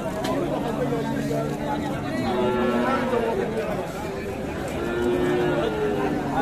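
Desi, Indian and Nepali Gir bullocks at the muddy Ambari cattle market in Dinajpur moo several times, long and fairly close, amid crowd chatter and people talking nearby.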